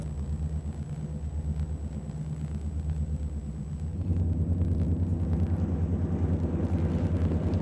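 EMD F3 diesel locomotive leading a six-unit eastbound Chicago Great Western freight train with piggyback cars, a deep steady engine rumble that swells louder partway through, with no voices.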